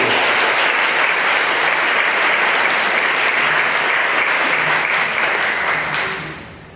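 Audience applause at a mayoral debate in Mukilteo following a candidate's opening statement, a full sustained round of clapping from the crowd that tapers off near the end.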